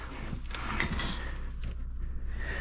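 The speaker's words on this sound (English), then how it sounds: "You can just start tightening that." A bolt on a 2011–2014 Mustang front lower control arm is tightened with a wrench, giving faint, close mechanical ratcheting and creaking clicks under a steady background hum, with no speech.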